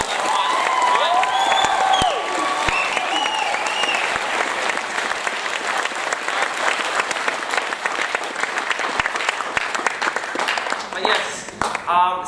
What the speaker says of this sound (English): I want you guys to give them a massive round of applause for being here tonight.